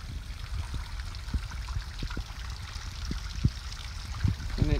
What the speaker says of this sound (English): And it's got a little stream running down into the creek.